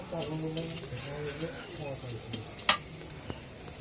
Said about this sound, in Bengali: এখন পেঁয়াজ দেই কড়াইয়ের মধ্যে